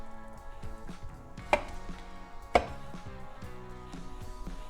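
A knife slicing mushrooms on a cutting board for an Italian risotto, with two sharp board knocks among quieter cuts and soft handling sounds, nearby and without talk.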